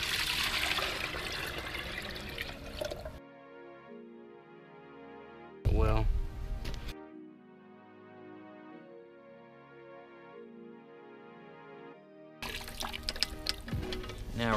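Paint mixed with thinner is poured from one can into another, a splashing liquid pour at the start and again at the end, with a quieter stretch between.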